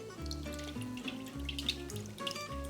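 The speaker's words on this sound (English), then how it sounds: "All right, I'm just gonna get some water." Kitchen tap runs water into a container while cooking, a steady, faint flow with tonal ringing as the vessel fills.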